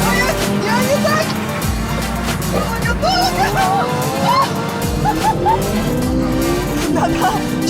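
A rented sports car with a hired driver in Florida, quick enough to hit 100 in 4.4 seconds, revs hard in loud, repeated rising surges, with engine noise and voices mixed throughout.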